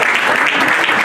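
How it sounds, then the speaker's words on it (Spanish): A church congregation bursts into loud, dense applause during a Sunday service, a continuous roar of many hands clapping close by. "Denle un aplauso."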